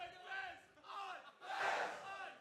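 A tournament crowd at a Smash Ultimate singles match chants for the player Unfezant in three loud, swelling waves, with the last surge the strongest and fullest.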